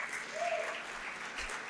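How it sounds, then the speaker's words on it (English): An audience at a retail conference session on transforming malls keeps up faint, distant applause, a soft continuous patter of many hands that neither swells nor stops. "A bigger round of applause, please."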